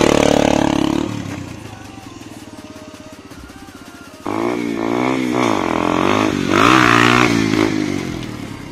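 Low-powered motorcycle during a wheelie attempt, engine revving hard, dropping to a lower rumble, then climbing again in strong pulses of throttle, loud and close.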